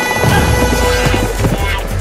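Horses gallop with a rapid clip-clop of hooves and a whinny, loud and close throughout a short farm pesticide advert for rice stem borer control, over busy background sound.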